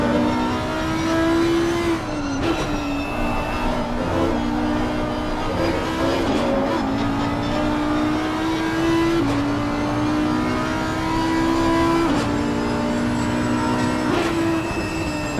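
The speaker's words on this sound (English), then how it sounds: "I'm gonna give you the screaming Audi" An Audi race car engine in the Assetto Corsa Competizione video game screams at high pitch on the Nordschleife, its revs climbing and dropping sharply with gear shifts, loud and continuous throughout.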